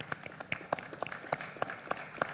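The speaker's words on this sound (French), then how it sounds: "On applaudit" A small, quiet audience claps with sparse, distinct hand slaps in a loose rhythm, faint and fairly close, with no talk over it.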